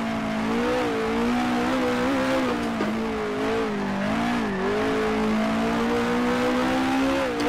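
A 1966 race car engine in Grand Prix Legends at Warwick Farm, Tasman Series, holds a loud, close, steady drone in third gear, its pitch rising and dipping as the car drifts through corners, with no voices.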